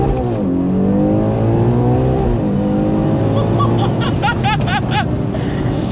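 A Ferrari Purosangue engine revs loudly in the rain, sweeping up and dropping back in a wailing rise, then settling into a busy roar with sharp crackles near the end, heard close, with no talk.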